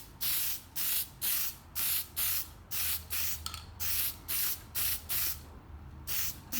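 Plasti Dip aerosol spraying a Camaro spoiler in a rhythmic series of about a dozen short hissing bursts with brief gaps between, close and loud, no talking.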